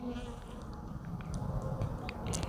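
A bee buzzes close by in a steady, continuous drone that lasts the whole moment, with faint shifts in pitch as it moves.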